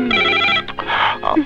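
A telephone rings indoors in a dramatic film scene, a brief bright electronic tone pattern that sounds close and loud and lasts just over a second.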